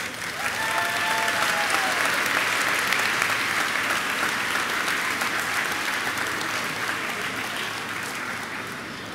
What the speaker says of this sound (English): Give all of our little acorns a round of applause.